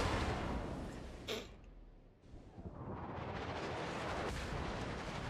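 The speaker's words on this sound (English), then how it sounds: "Nope, he's still shooting at me." Enemy ship gunfire in World of Warships: a dense, steady roar of distant shelling and rumbling impacts with one sharp crack near the start, fairly quiet overall.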